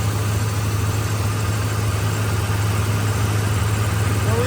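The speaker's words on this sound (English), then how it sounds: "now it's still misfiring" A truck engine idles with a misfire, a loud, close, steady low rumble that stays even and continuous throughout, with no talking over it.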